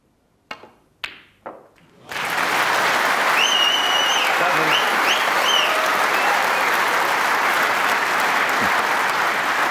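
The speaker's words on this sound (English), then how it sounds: "Terrific reaction from the Crucible crowd to that" Loud, dense applause from the Crucible snooker crowd at the 2018 World Championship semi-final swells suddenly and holds steady to the end, after three sharp isolated knocks in the opening seconds.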